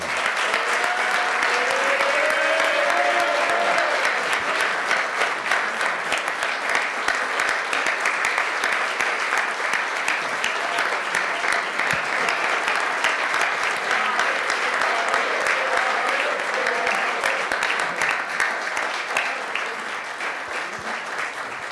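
Loud, sustained applause from a large crowd at a book presentation, steady clapping that continues for about twenty seconds before easing slightly at the end.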